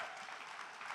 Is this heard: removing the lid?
no